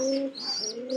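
A pigeon gives a single, close, soft coo with a drawn-out warbling tone, heard alone.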